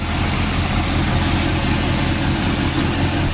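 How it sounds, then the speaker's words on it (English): A 1956 Chevrolet 210 with a 350 V8, four-barrel carburetor, stock manifolds and dual exhaust idles steadily up close, a deep rumbling throb with a constant loud texture and no talking. "Motor sounds nice and runs nice"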